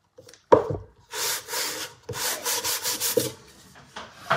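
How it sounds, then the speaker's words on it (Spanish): Hand sanding of wood in several back-and-forth strokes, a rough scratchy rasp in bursts with short pauses and a thump at the start. "Vamos a, por detrás, lijar, que sí que está seco."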